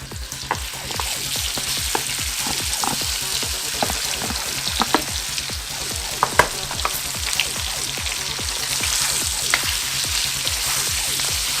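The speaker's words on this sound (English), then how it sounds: "I'm frying this on a high heat." Pirate chicken stir fry sizzles hard in a pan over high heat, a steady dense crackle with rhythmic stirring scrapes running throughout, close and fairly loud with no talking.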